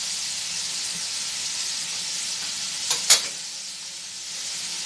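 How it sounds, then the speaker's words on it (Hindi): Shredded cabbage and mixed vegetables sauté in a hot pan, giving a steady close sizzle and hiss throughout, with a couple of brief louder clinks or scrapes of a spoon stirring near the middle. "थोड़ा सा सब्जियों को हम सौते करेंगे।"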